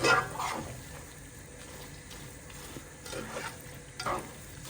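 Creamy onion and garlic pasta sauce simmers in a pan with a splash of water, giving a quiet bubbling sizzle marked by a few louder stirring scrapes near the start and again later.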